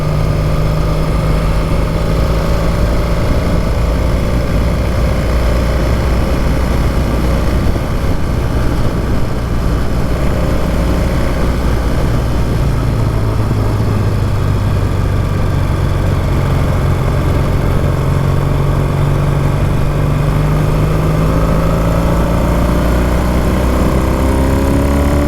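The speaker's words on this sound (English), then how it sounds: "the bike is running pretty good" A classic Triumph Bonneville T140v motorcycle engine running steadily at idle, a loud, close, low rumbling throb that barely changes, with a few faint pitch swells, no talking.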